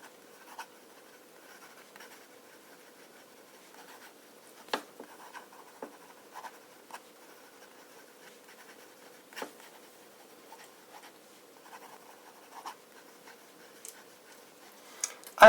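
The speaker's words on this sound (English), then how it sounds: "Maybe let's do some fast writing" A pen moving quickly across paper in fast writing, giving a soft, continuous scratch with sharp little ticks and taps from strokes, quiet and close with no voices.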